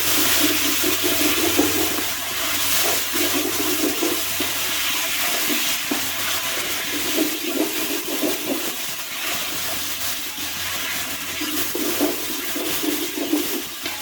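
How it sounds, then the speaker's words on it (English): Two tablespoons of garlic sauté in a pan as pulao is cooked, giving a loud, continuous hiss for about fourteen seconds with faint stirring scrapes and no speech. "two tablespoons garlic, we will saute it a little bit"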